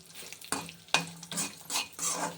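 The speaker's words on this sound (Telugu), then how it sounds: "నువ్వులు, ధనియాలు, గుళ్ళు, పచ్చిమిర్చి, చింతపండు బాగా వేగాలండి" Sesame seeds, coriander seeds, green chillies and tamarind fry in a pan for a chutney, with a soft sizzle and several scraping stirs of a spoon against the pan.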